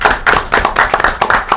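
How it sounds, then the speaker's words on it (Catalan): A studio audience claps at a live podcast recording, with brisk, slightly uneven hand claps heard up close and loud, no talking. "un aplaudiment pel públic"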